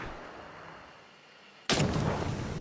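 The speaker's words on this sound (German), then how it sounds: "Eigentlich kommt der Schuss bei dir an und du hörst das im Nachhinein, den Sound." A distant gunshot in the video game Hunt: Showdown arrives as a sudden loud blast that rolls on as a long, broad rumbling echo after a quiet stretch.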